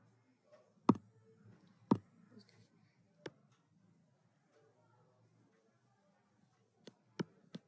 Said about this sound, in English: So let me write here enzyme also.